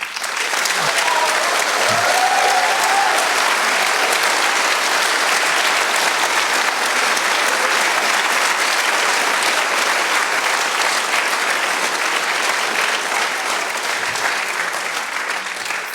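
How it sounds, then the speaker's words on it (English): Sustained loud applause from a large audience at a biosensor contest, dense continuous clapping with some cheering, filling the whole stretch without letting up. "have a cheer and a big applause for them"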